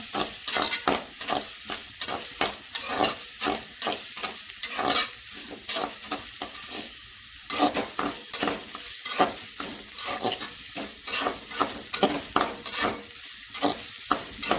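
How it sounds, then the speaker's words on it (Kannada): Garlic and ginger fry in a pan, following green chillies, for a fish sukka dish: a steady close sizzle with repeated scraping stirs in an irregular rhythm, loud and unbroken throughout, with no voices. "ಬೆಳ್ಳುಳ್ಳಿ, ಆಮೇಲೆ ಶುಂಠಿ, ಇಷ್ಟನ್ನು ಹಾಕ್ಕೊಂಡು ಸ್ವಲ್ಪ ಫ್ರೈ ಮಾಡ್ಕೊಳ್ಳಿ."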